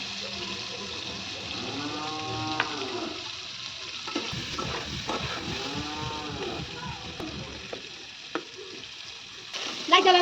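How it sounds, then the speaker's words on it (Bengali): Potatoes frying with salt and turmeric in a pan for aloo dum give a steady sizzle with scraping stir sounds, while harmonic voice-like tones rise above it in the middle. "আলুর দমে আলুটা ভাজা হয়ে গেছে"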